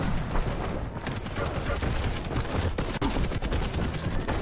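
An unusual weapon fires in the arena shooter Quake Champions, a loud, dense burst of rapid shots with sharp cracks and booms that runs continuously throughout.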